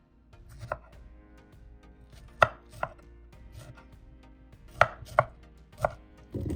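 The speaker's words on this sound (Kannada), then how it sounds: "ಈಗ ಇದರ ಸ್ಟೆಮ್ಸ್ನೆಲ್ಲ ಕಟ್ ಮಾಡಿ ಸ್ಟ್ರಾಬೆರೀಸ್ನ ಚಾಪ್ ಮಾಡ್ಕೋಬೇಕು" A knife chops strawberries on a cutting board in sharp, irregular taps, several distinct close thuds separated by short pauses in a quiet room.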